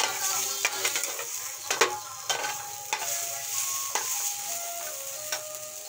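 Chicken masala paste sizzles in a pan while a spoon stirs and scrapes it, with a steady frying hiss and periodic clinks and scrapes of the utensil against the pan, close up, with no voices.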